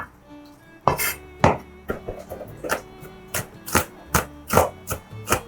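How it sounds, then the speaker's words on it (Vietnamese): Quick, uneven knife chops mincing garlic on a cutting board, sharp taps repeating about twice a second, close and alone. "Băm tỏi nhỏ ra để tí mình phi lên cho thơm ha."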